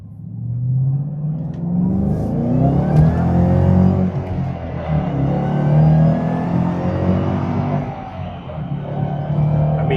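A 2014 Ford GT500 accelerating hard in third gear toward about 100 mph, a loud, sustained engine roar rising steadily in pitch close to the cabin, with rumbling harmonics throughout and no talking.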